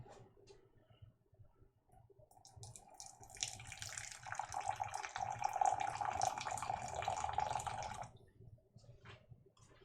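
Warm water pours from a kettle in a home kitchen, a steady gurgling splash that swells in the middle and then stops, fairly quiet and close.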